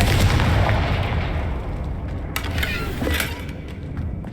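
Repeated fiery Confringo blasts in Hogwarts Legacy burst out as sharp booming cracks, a couple of loud hits over a dense, rumbling game din with no voices.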